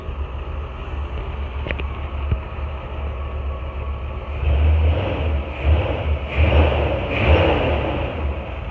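A 1955 Chevrolet 3100 pickup engine starts after a few faint clicks and settles into a low, steady running rumble, with a brief rev rising and easing at close range.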